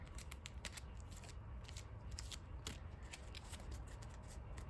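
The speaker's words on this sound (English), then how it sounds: "that was a good shuffle, decent shuffle" A deck of trading cards is shuffled by hand close by. Quiet, rapid flicking and riffling crackles run steadily throughout.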